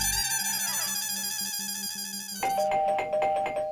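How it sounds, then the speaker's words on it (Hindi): A doorbell in a family home kitchen rings twice in a row, a clear electronic ding-dong chime repeating over a steady background hum, close and loud with no talk. "अरे काय आज घंटीवर घंटी वाजतीये"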